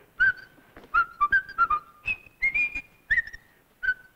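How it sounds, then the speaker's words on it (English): A person whistles the melody of Swanee River alone, clear and close, in short bright phrases with brief gaps. "You haven't heard me whistle Swanee River while eating new puffed cornflakes."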